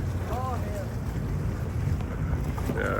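A single-engine center console boat passing on a waterway on a rainy day, its motor a low rumbling drone partly masked by wind buffeting the microphone.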